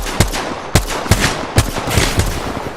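An R-99 submachine gun firing in Apex Legends, loud bursts of rapid shots recurring in short groups, with sharp cracks repeating roughly every half second.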